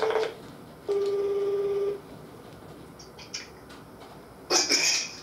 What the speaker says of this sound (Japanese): 電話してみるわ。